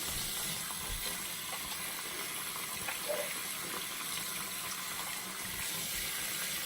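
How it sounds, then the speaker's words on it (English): Tap water runs steadily into a sink while hands are washed with soap, a continuous splashing hiss with faint rubbing and small splashes, close by and without speech. "I'm just gonna wash my hands first with the soap"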